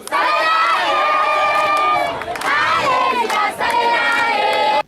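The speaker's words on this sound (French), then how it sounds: "sous les applaudissements des habitants de cette commune" Local residents at a neighbourhood football tournament pitch in Mukanga cheer loudly as a crowd, with sustained, overlapping shouts and yells rising and falling in close waves over a few seconds.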